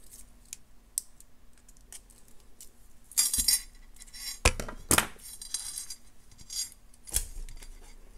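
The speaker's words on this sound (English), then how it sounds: "Snip off the excess, tuck it in" Excess wire snipped off while making a bead necklace: a few sharp, close cutter clicks and small metallic rattles, separated by quiet pauses.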